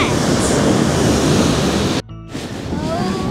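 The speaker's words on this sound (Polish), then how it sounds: "Stoimy z dziewczynami i po prostu podziwiamy te fale." Ocean waves break on the beach at Porthcurno in Cornwall as a loud, steady roar of surf, with a sudden brief dropout partway through before the wash resumes.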